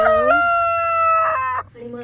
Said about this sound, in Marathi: अगदी ह्या कोंबड्या पण.